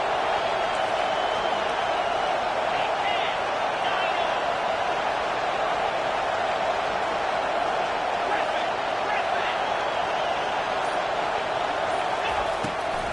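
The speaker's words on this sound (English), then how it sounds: "Third down, and this crowd will blow out a vocal cord to help this defense." Football stadium crowd at a Virginia Tech vs Baylor game, a steady, loud, sustained roar of cheering and noise from a packed stands on third down, continuous throughout with no breaks.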